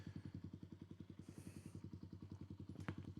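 A Kawasaki KLX motorcycle idles nearby on a forest ride, its single engine thumping in a fast, even pulse that is fairly faint throughout, with one sharp clank near the end.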